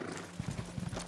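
A horse's hooves clip-clop in a video game, a quick run of light, rhythmic hoofbeats at moderate distance over a faint background, with no talk.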